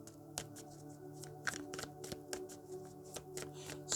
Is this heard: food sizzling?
no